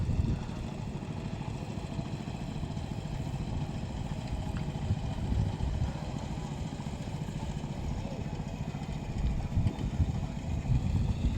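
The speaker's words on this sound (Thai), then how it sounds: "เรือหางยาวรับจ้าง ทั่วไปในแม่น้ำปัตตานีครับ" A long-tail boat engine on the Pattani River, running as a steady, rumbling, continuous drone that stays close and fairly loud throughout, with no talk over it.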